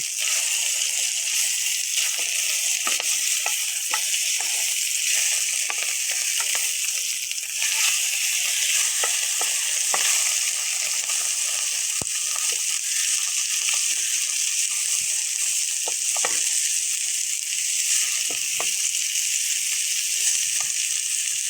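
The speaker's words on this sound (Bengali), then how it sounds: "এখন আমি আরেক পিঠই ভেজে নেব" Steady, loud sizzling of fish and egg frying in a pan, a continuous bright hiss with occasional pops and crackles, no talking.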